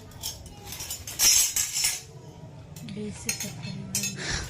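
Metal serving spoons for dishing out rice are handled and knocked together, giving bright, close clinks and jangles in bursts, with a voice briefly murmuring underneath.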